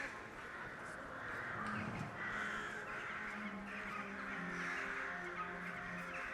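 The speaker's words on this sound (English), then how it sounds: "God, the birds are sure are loud." Crows caw repeatedly in the Skyrim video game, their harsh calls rising over a steady outdoor ambience at a moderate distance and fairly low level.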